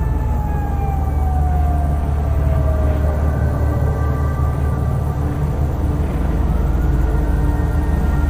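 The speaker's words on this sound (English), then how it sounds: "sirens far away" Sirens wail far off in an ambient sound mix, long falling and rising tones drifting over a constant low rumble, distant yet clearly audible and continuous.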